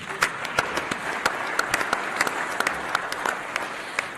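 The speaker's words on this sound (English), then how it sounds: "I think we deserve a round of applause." A conference audience at a startup opening session breaks into a round of applause, dense clapping with sharp individual claps standing out over several seconds.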